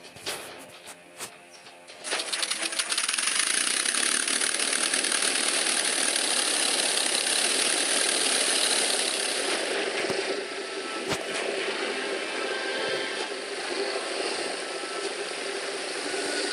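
Propeller plane engine in a Gallipoli-era war video game, a steady loud drone that starts abruptly after a couple of seconds of quiet clicks and holds at an even pitch, easing slightly toward the end.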